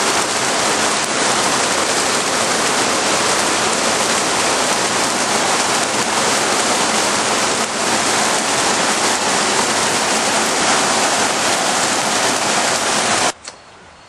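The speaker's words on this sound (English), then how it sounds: "The amount of rain we've had." Heavy rain and rushing floodwater pour down in a steady, loud, dense roar during a storm, continuing unbroken for most of the stretch before cutting off abruptly near the end.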